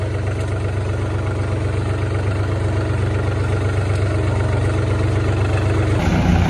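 A tractor towing a thresher out to a corn and soybean field runs with a loud, steady low-pitched engine drone and rhythmic throb, heard close and without any talk.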